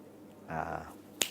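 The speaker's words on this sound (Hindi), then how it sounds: "ऐसे चुटकी बजाते उन्हें" A single sharp finger snap lands near the end, just after a short stretch of speech.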